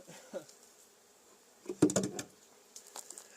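Honey bees buzz briefly near the hive while they are being installed, with a faint hum followed by a short, louder burst of buzzing close by, then quieter intermittent buzzing.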